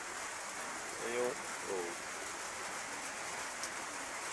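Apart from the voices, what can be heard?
rain falling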